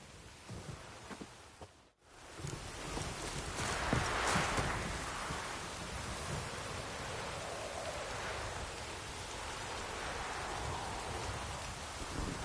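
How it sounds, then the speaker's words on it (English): Steady rain falls in The Witcher 3, a continuous broad hiss of rain on surfaces that cuts out briefly near the start and then holds at an even, moderate level with no talking. "No use doing any work in this rain."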